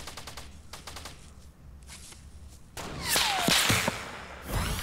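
Submachine gun fire in the Fortnite battle royale game, loud rapid bursts of automatic shots with sharp cracks, starting after a quieter stretch of scattered distant shots and ending in a final loud burst.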